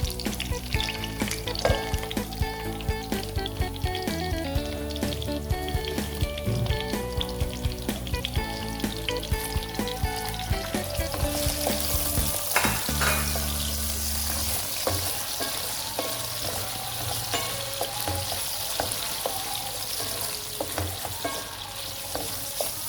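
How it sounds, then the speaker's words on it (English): Zucchini sizzles steadily in a hot pan while being stirred, with intermittent scraping and clattering of the utensil over a continuous frying hiss, close and with no talking. "So let us add our zucchini."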